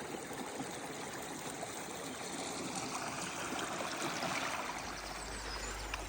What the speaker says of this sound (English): All these little streams are beautiful, aren't they? Just trickling down the valley.